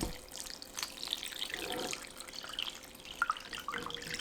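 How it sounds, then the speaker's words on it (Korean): Seasoning water poured into a container of summer water kimchi layered with onion and red chili, a steady, close trickling stream with light splashing that runs the whole time. "양념물을 부어주세요."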